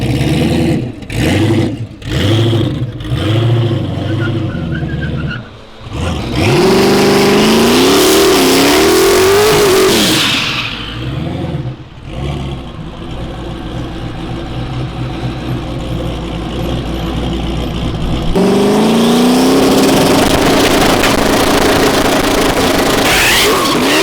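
Cars at an anything-goes drag racing event rev hard and accelerate, with loud roaring engines rising and falling in pitch, tire squeal and successive passes close by.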